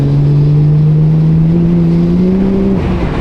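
A Toyota Soarer engine held at full throttle in third gear with a twin-disc clutch and R154 gearbox, a loud, steady, droning rev that rises slowly in pitch, close and alone.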